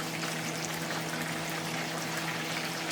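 Steady, close bubbling of chicken back and ackee simmering in a pot, a continuous frothy hiss with a faint low hum underneath.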